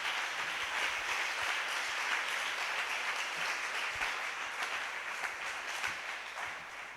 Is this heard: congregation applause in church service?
yes